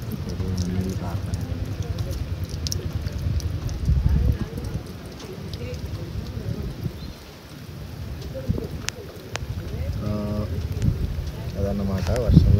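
Rain falls steadily on a metal DJ container during camping in heavy rain, a dense patter with occasional sharper drips, while people talk nearby over it.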